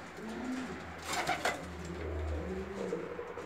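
Bulgarian pigeon breeds, young birds about eight or nine months old, coo softly in a loft, low rolling calls repeating at a relaxed pace with a brief flutter of movement in the middle, fairly quiet and close.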